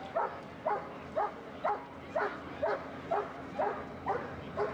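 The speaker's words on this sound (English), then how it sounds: "You hear a dog barking." A German Shepherd police dog barks repeatedly at a riot police line, about nine evenly spaced barks, moderately close, over a low murmur of crowd noise.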